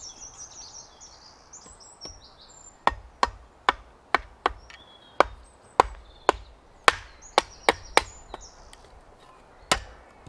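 Sharp chops of a Cold Steel military shovel striking a bouncy piece of wood outdoors, over a dozen uneven blows at close range, with birds chirping faintly behind.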